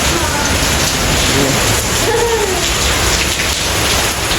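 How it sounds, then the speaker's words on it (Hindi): Heavy rain driven by strong wind, a dense and loud continuous roar of falling water and spray close by that holds steady from start to finish. A faint voice sits deep beneath it. "ओए बारिश की फुहार तो यहाँ तक आ रही, हवा भी है ना बहुत ज़्यादा।"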